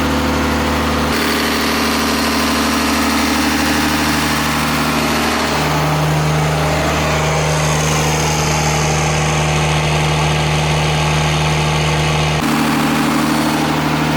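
A Cummins diesel swapped into a van idles loudly and continuously with a deep, rough, heavy rumble while residue burns off the exhaust manifold, and no voices are heard.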